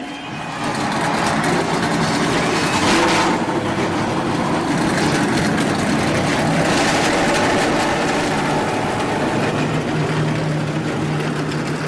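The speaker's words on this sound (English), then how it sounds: "The engines have been fired up in the truck." Race truck and Lamborghini engines fire up and run together at the 2009 Las Vegas 350, a loud, continuous mechanical roar with a heavy low rumble and steady crowd and track noise around it.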